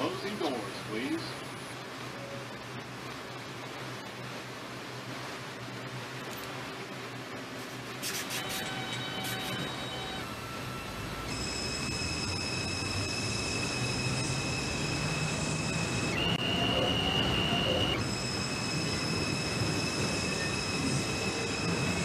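An R142 subway train on a 2 train run to Crown Heights in the simulator game Hmmsim 2, rumbling and rolling steadily with high wheel squeal and tonal motor whine building later, a quiet voice underneath.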